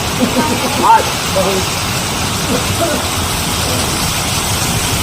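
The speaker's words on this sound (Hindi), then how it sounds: "बहुत जोरदार बारिश" A dense, steady roar of heavy monsoon-style rainfall fills the scene during flooding near a dam, with a brief clatter near the start and faint voices underneath.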